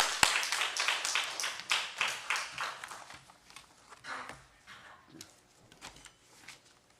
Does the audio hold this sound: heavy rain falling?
no